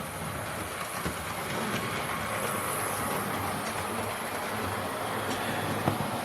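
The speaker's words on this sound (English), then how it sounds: "Now we should be ready to actually take a trip round the railway." A locomotive-hauled train runs round a railway, a close, continuous rumble and rattling clatter that holds steady throughout.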